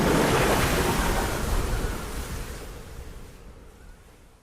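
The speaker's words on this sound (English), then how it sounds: "Look at the waves." Stormy sea waves crash in a loud, rushing surge of broadband water noise that gradually subsides and thins over several seconds, with no voices.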